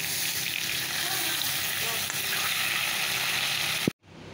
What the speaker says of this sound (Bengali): তো চলো না, আর লেজা দুটো ভাগে ভেজে নিচ্ছি।